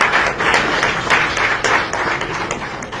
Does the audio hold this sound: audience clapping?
yes